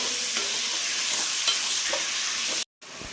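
Chicken pieces for a simple curry fry in a pan, giving a steady sizzle with scraping stirring strokes; the sound drops out briefly near the end before the sizzle returns.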